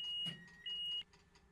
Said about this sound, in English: Just have to cancel that awful alarm.